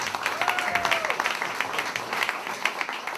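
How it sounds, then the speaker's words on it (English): A theatre audience at a playhouse claps steadily, a moderate rolling applause with a few louder individual claps, with a voice faintly heard near the start. "Let's give them a round of applause."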